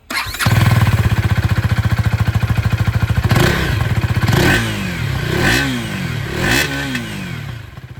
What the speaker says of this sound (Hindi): सबसे पहले मैं आप लोगों को यहाँ पर ड्यूक की आवाज़ सुना देता हूँ।